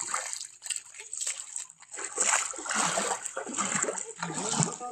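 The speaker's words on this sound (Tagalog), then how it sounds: "Nilakip na naman ng dagat." Sea water at high tide flooding a court at night, irregular splashing and sloshing with rushing water, fairly close and continuous, swelling in waves without talk.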